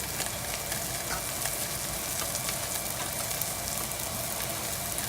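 Mushrooms frying in olive oil in a hot pan, giving a steady, dense sizzle that stays loud and even throughout with no talking.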